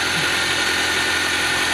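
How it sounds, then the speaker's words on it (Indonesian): Freshly started engine idling steadily after a belt fitting, a continuous close mechanical hum with faint vibration and no pauses throughout. "Ini mesin saya sudah saya starter ya, dia tidak melompat"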